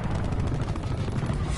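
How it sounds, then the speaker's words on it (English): Attack helicopter in the video game Black Ops 4, a loud, steady, pulsing rotor drone that fills the whole moment without a break. "Hostile attack chopper inbound."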